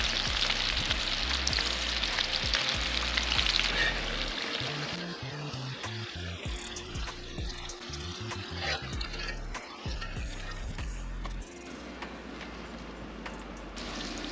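Steady sizzling of small smelt fish frying in hot oil around 325 degrees, a continuous crackling hiss with some bubbling, close by and without voices.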